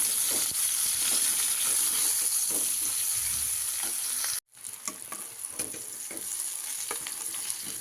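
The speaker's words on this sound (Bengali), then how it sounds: "সবজি আরও বেশ কিছুক্ষণ নাড়াচাড়া করবো" Winter vegetables fry in oil for khichdi with a continuous close sizzle, while a spatula scrapes and stirs them in rhythmic strokes. The sound cuts out for a moment before the frying picks up again.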